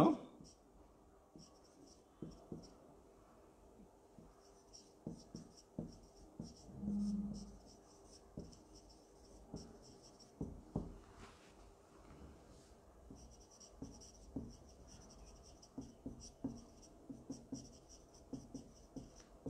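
Pen scratching on paper during a class lesson on a drawing of an atom's nucleus, with short irregular strokes close by, quiet and intermittent, under soft room noise and occasional faint movement.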